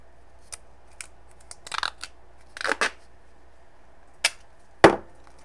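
Strong tape, such as duct tape, is cut and applied to a recycled-material ceramics wheel build, making a few sharp snips and tearing rasps at irregular intervals, close and fairly quiet, with no talk.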